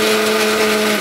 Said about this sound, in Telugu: మళ్ళీ మిక్సీ వేసేసుకుందాం.